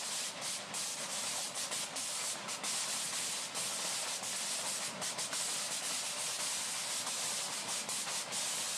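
Air jets in a recycling sorting line fire continuously as items pass, a dense, steady hissing rush with rapid bursts of puffs and clattering material, loud and unbroken throughout.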